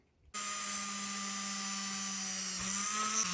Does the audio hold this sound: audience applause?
no